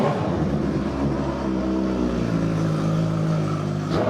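A 2017 bike with crash guards and hand guards revs steadily and loudly up close at a motorsports dealer in Rawalpindi, its engine droning with a low harmonic rumble throughout, with no talk over it.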